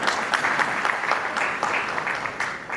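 An audience at a stock exchange listing ceremony for Ideal Technoplast Industries claps steadily in a room, a dense run of clapping with sharp individual claps standing out, and no speech over it.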